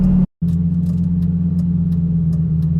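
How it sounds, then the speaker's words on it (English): Steady engine drone from a mid-engine Italian sports car with a manual gearbox, a constant low hum heard from inside the cabin with one very brief dropout near the start. "I hear a lot of the kind of mechanics of the engine itself"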